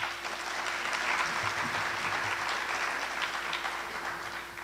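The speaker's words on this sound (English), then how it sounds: "Can we give him a round of applause?" An audience at a partnership launch in Prince George's County claps steadily for nearly five seconds, a dense even wash of hand claps over a faint constant hum, tapering slightly at the end.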